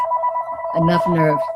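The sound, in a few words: telephone ringing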